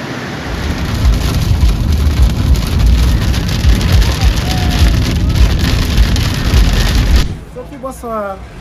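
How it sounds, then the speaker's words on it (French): Heavy, steady rain in Côte d'Ivoire pours down with a dense hiss for most of the clip, then cuts off abruptly near the end, leaving a quieter patch with faint tones. "Mais il pleut beaucoup."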